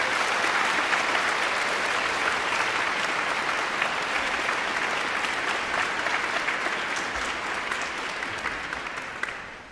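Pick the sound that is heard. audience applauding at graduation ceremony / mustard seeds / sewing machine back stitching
audience applauding at graduation ceremony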